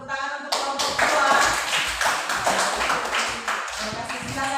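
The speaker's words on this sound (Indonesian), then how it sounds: "mari kita tepuk tangan untuk kelompok 2" A classroom of students claps for a presenting group, with a voice briefly at the start, followed by a burst of close, sharp, scattered clapping that continues steadily, with some hand taps and shuffling mixed in.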